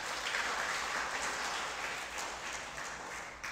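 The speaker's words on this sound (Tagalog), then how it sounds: "Palakpak muli sa Panginoon." A church congregation gives a soft, steady round of applause after a prayer, a diffuse wash of clapping heard from a distance at low volume.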